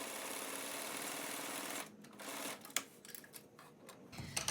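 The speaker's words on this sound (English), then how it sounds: "I'm just going to top stitch this opening" A sewing machine top stitches the opening of a fabric face mask, a steady fast whir that stops after about two seconds, followed by scattered clicks and handling sounds.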